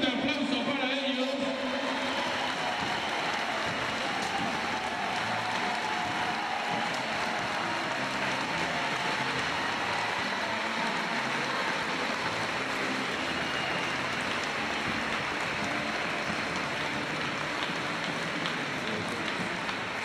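Applause for the third-placed team at a junior men's basketball final in Asturias, a dense, even patter of clapping filling the hall and sustained for about twenty seconds after a brief announcement.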